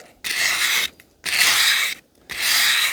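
An axe edge is drawn along sandpaper for convex sharpening, making three long, loud, even rasping strokes close by with short pauses between them.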